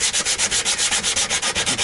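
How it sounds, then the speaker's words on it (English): A cheap Chinese-made electric guitar neck and fingerboard are sanded by hand in quick, regular back-and-forth strokes, a loud, close, rhythmic rasping of about a dozen even passes with no voices. "sand out the whole of this neck and fingerboard together."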